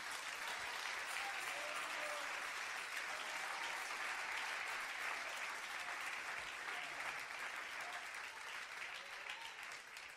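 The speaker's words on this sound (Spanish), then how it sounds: "Dale un aplauso a Cristo que él se lo merece" A church congregation claps for Christ during a Spanish-language sermon, steady dense applause filling the whole stretch at full volume, close and sustained without a break.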